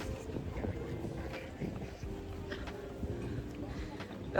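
Steady wind buffeting the microphone beside the river at Hoi An, a continuous low rumble with gusty swells and faint background clatter throughout.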